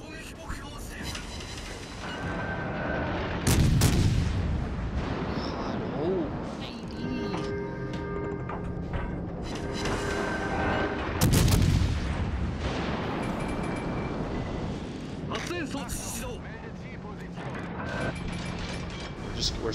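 Warship guns boom in World of Warships Legends, two heavy salvos standing out amid mechanical clanking and whirring, with someone talking over much of it.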